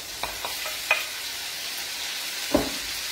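Small diced cherry tomatoes go into a hot frying pan with browned guanciale for a trofie, asparagus and prawn pasta, giving a steady close sizzle with a few soft clicks of stirring and no voices.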